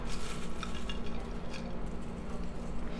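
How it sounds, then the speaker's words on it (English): Bacon crumbles drop into an everything bagel casserole in a kitchen, with soft scraping and light clinks of utensil against dish over a low steady hum. "Now we're gonna add a little bit of bacon crumbles."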